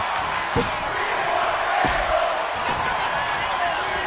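At an indie wrestling pay-per-view event, the crowd shouts and chants steadily in a reverberant hall, with a few sharp thuds from the ring cutting through the crowd noise.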